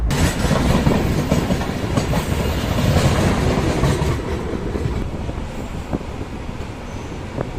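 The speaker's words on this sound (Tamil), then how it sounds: "இந்த 10:48க்கு திருப்பூர் ரயில்வே ஸ்டேஷன்லேருந்து ட்ரெயின் கிளம்பிடுச்சுங்க." The Chennai Mangalore Super Fast express, train 12685, pulls out of Tiruppur station, a loud continuous rumble of rolling wagons and clattering wheels heard from on board, with wind noise.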